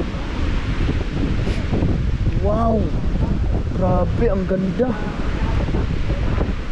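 Strong wind buffets the microphone with a loud, steady roar among pine trees near a displayed Sherman tank, with people talking throughout.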